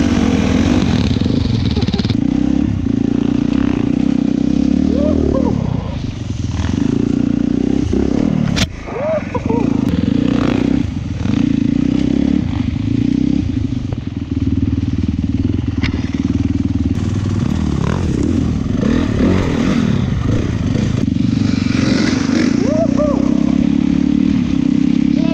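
A Honda CRF 450 enduro motorcycle on a bad tyre strains up a hill climb, its engine a loud, continuous, close revving roar with brief dips and rattling clatter, and voices talking over it.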